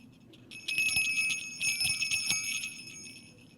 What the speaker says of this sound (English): ringing the silver sleigh bells that hung from their harnesses.